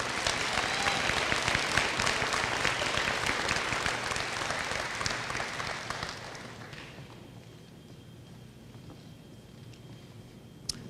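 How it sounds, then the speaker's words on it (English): Applause from an audience honoring graduating seniors at a school awards program, a broad sustained burst of clapping that thins and fades away after about six seconds, leaving a quiet room with a few scattered claps. "Please give these students a round of applause."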